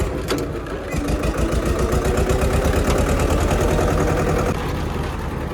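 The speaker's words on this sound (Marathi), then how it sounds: "इथं पाहू शकता यात्रा गावात सगळे ट्रॅक्टर जमा झाले असते" Tractor engines idle together at a village fair in Maharashtra, a steady loud rhythmic diesel chugging and knocking that runs throughout, close by, with faint background voices.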